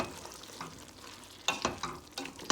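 Chicken fries in a pot over onions while being stirred, with quiet sizzling broken by several sharp scrapes and clatters of the spoon against the pot.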